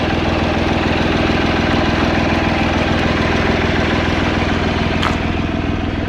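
A 2016 Hyundai Grand i10 Asta diesel engine runs at a steady idle, with a loud, close, even rhythmic clatter that continues unbroken throughout, with no talk.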